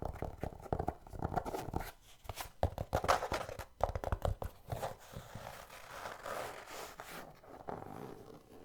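A shoe is scratched and tapped, giving bursts of rough zipper-like rasps that come in quick irregular strokes, loud and close, with brief pauses between runs.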